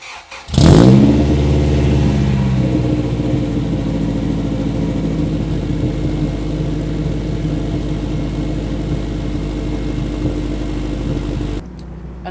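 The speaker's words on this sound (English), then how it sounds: "let you guys hear this new quieter exhaust, or quieter in the cab" Exhaust and engine drone of a Honda car with a B20VTEC engine and a new quieter exhaust, heard from inside the cab after a start-up rise, then a steady, loud, low cruising hum that holds for about eleven seconds before cutting off.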